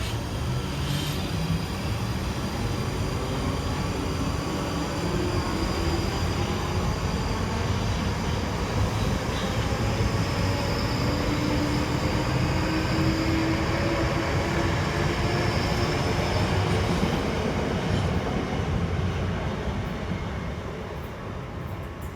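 South Western Railway class 458 electric multiple units, a coupled pair, departing Reading station on a service to London Waterloo, giving a steady, loud rolling rumble and traction hum that holds throughout and fades slightly at the end.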